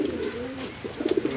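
A pigeon cooing as it is held and examined by hand, low throaty coos close by, with a fuller run of pulsing coos near the end.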